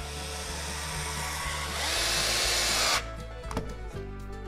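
A power drill driving screws into soft eucalyptus scrap wood whirs steadily and rises as the screw seats, then stops abruptly, leaving a few faint handling knocks.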